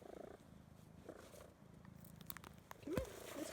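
A cat purrs softly and close by in a steady rumble beside a small cabin, with a brief chirping meow near the end and no talk.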